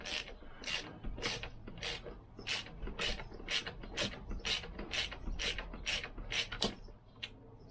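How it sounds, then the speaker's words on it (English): A ratchet wrench undoing a nut on a Lambretta scooter, a fast even series of about fourteen sharp clicking strokes close by, with no talking. "that's just the nut coming off, which is what I'd expect it to do"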